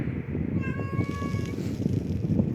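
A cat meows with a thin, rising voice over steady game background noise, a single brief call in the middle of the stretch, with no talking.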